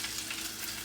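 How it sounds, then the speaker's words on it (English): Constant hissing sizzle of steak cooking in an air fryer, an even broadband crackle with a low steady hum underneath, no one speaking. "you might hear my steak cooking in the air fryer in the background"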